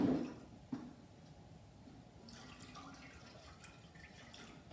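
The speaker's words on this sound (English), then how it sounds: "So I add a little water." Water is poured into a large pot to make steam, a soft trickle and splash close by with a few faint clinks, fairly quiet throughout.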